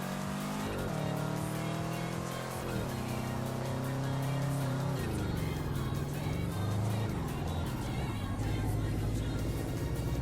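Engine of a car driven in the VR mountain-pass racing game Touge Shakai, a steady loud drone whose pitch climbs through several gear changes, then dips and rises again as the car works through corners, with no talk.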